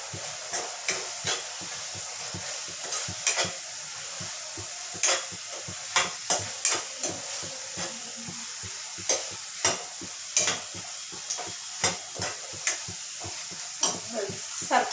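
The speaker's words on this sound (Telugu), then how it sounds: "బాగా నూనెలో బాగా ఫ్రై అయిపోయినాయి రొయ్యలు" Prawns sizzling in hot oil with a spoonful of chili powder, stirred with a steady run of sharp spoon scrapes against the pan over a continuous hiss, close and moderately loud.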